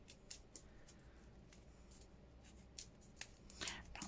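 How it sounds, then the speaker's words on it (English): Scissors snipping paper to cut out handmade embellishments at a craft table, a few quiet, irregular crisp cuts with soft paper handling in a hushed room and no talking. "Don't be frightened of the scissors."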